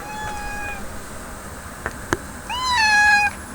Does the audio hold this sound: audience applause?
no